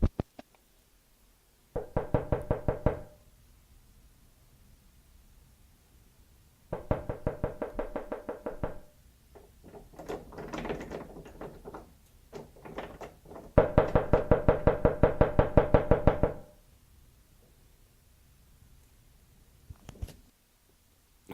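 Loud knocking on a front door, heard in three separate bursts of rapid raps, with fainter scattered taps between them and quiet pauses, no voices.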